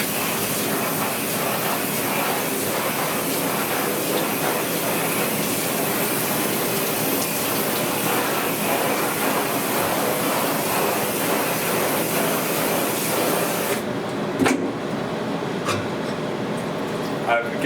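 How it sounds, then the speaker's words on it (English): A continuous broad hiss of water spraying gently from a garden hose onto a screen-printing screen, steady and close, with the spray cutting off near the end, followed by a few faint clicks. "Nice gentle spray water."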